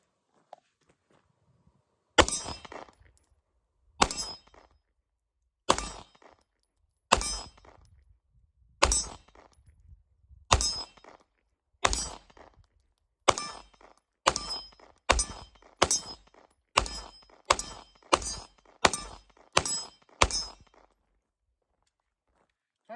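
Smith & Wesson M&P pistol fired at a target about 20 yards away outdoors at dusk: roughly sixteen sharp, cracking shots, spaced a couple of seconds apart at first and then coming faster, each ringing briefly before silence.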